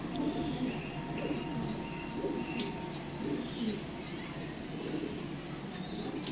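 Pigeons coo softly in a loft kept for pigeon racing, their low repeated calls mixed with faint chirps over steady background noise, and a voice is briefly heard.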